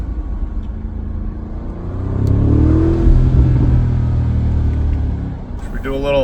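An Audi SQ7 tuned to almost 700 hp, in dynamic mode, blips its engine on aggressive downshifts while slowing for a stoplight, a loud rumbling rise and fall inside the cabin with a voice whooping over it.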